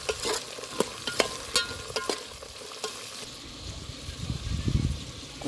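Vegetable rice is stirred in a frying pan with sharp spoon scrapes and clacks against the metal over a steady sizzle, followed by a softer, lower tossing sound near the end.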